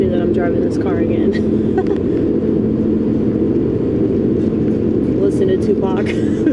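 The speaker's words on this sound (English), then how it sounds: "So happy that I'm driving this car again." Low, steady engine and road rumble inside a moving car, with a constant drone throughout and faint higher sounds drifting over it.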